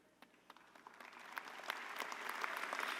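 Applause from a high school commencement audience for faculty, administrators and staff, starting as scattered claps and swelling into a steady, dense wash of clapping across the crowd.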